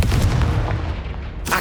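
The Confringo fire spell in Hogwarts Legacy bursts with a heavy, booming blast that rumbles and fades, followed by a sharp second impact at the end.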